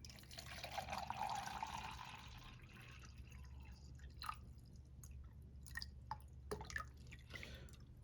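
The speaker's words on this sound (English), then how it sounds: "I'm going to fill it right up to the top with water so that the water comes out of the spout." Water drips from the side spout of a eureka can filled to the top, a few soft, separate drops falling at uneven intervals against a quiet background.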